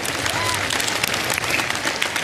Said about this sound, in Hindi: अपने लिए भी तालियां बजा लीजिए आप लोग सबके सब यार